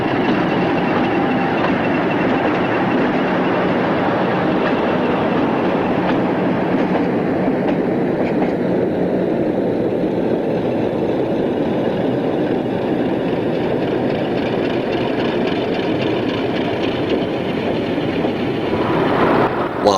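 A British Rail Class 50 diesel locomotive rumbles steadily nearby, arriving from refuelling at Old Oak, with a deep engine drone and faint rail clatter, holding a constant level throughout.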